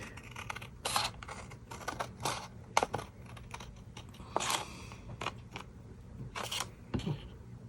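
Scissors cut out a top-fold paper card for a Tottenham jersey design, slicing through both layers at once: a close series of quick, crisp snips and short papery scrapes in irregular bursts, with no talking.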